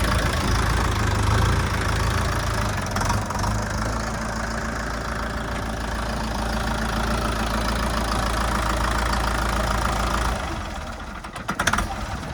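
A Dongfeng 404 mini tractor engine running steadily nearby, a constant mid-low diesel drone with a brief shift near the end, no talk over it.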